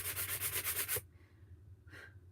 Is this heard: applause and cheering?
no